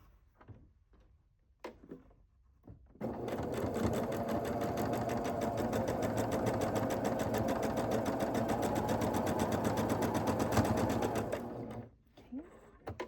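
A sewing machine stitches a quilt block, a steady rapid mechanical whir running about nine seconds close by, with fabric handling and small bumps before and after.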